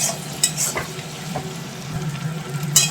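Chowmein fries in a wok with a close, steady sizzling hiss and a few stirring clatters rising over it, alone and fairly loud throughout.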